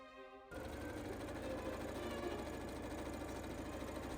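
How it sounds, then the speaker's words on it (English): Sewing machine running a seam along an under sleeve piece, kicking in after a half-second pause and holding a steady, rapid stitching rattle close to the microphone. "Then I sew in the under sleeve piece along this side here."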